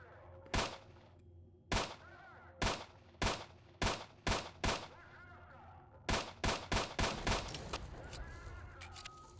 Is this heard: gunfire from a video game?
yes